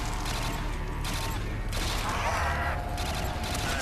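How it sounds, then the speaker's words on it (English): Rapid bursts of rifle fire from an upgraded FAL in Call of Duty Zombies, World at War, crackle in loud clustered volleys separated by brief pauses, with mechanical clatter throughout. "There's a little burst fire action going on here."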